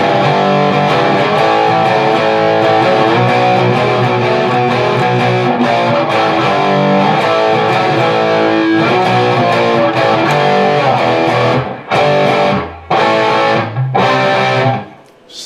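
Electric slide guitar plays the closing tag of a song with distorted, sustained, gliding notes, loud and dense throughout, then breaks into a few choppy stop-start hits near the end.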